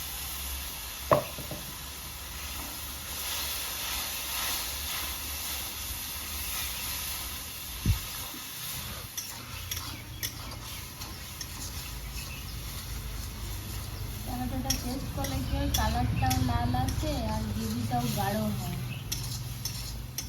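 Spices and meat fry with tomato paste in a pan, with low sizzling throughout, occasional sharp clinks of a spoon against the pot, and busier stirring and scraping toward the end, all up close.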